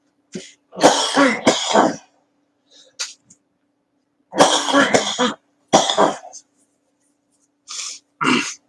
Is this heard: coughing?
yes